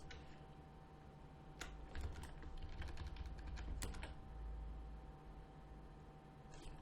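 Computer keyboard keys tapped for Photoshop shortcuts, a quick cluster of close, crisp clicks over a steady low hum, no talking.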